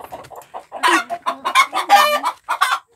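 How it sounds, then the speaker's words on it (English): Chickens clucking in a small outdoor coop, a run of close, loud, choppy clucks and squawks with one rising crow-like call. "Chickens!"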